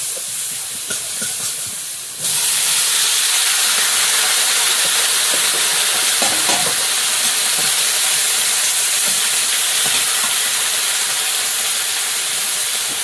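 Garlic and five-spice tempering hit hot oil in a wok, erupting after two seconds into a loud, steady, broadband sizzle that holds unbroken to the end, with no voices.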